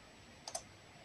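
Two quick, faint clicks of keys on a computer keyboard while a search is typed, close together and alone in a quiet room.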